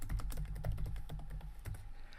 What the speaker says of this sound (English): So for my title, I'm going to type building a website.